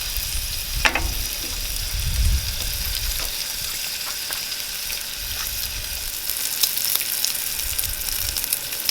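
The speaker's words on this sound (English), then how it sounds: "now that's sauteing nicely. I'm going to lower the heat a bit." Pancetta and garlic with black pepper and pepperoncino sauté in a hot pan, giving a steady close sizzle and crackle throughout, with a few light clinks and stirs and no talking.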